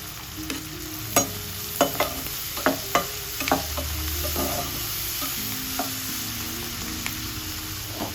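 Tomato, green chili and turmeric fry with onions in a pan at medium heat, a steady sizzle broken by several sharp scraping stirs of a spoon.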